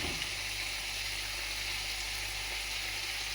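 Tempering spices sizzling in hot oil, a steady, even frying hiss heard close up and alone for the whole stretch.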